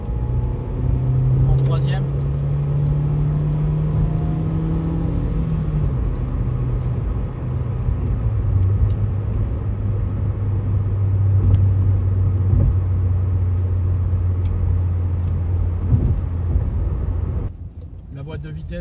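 Nissan Micra K11 1-litre 60 hp petrol engine, a 2002 car, pulling hard in third gear from inside the cabin: a steady low droning rumble that rises in pitch, with someone talking over it throughout.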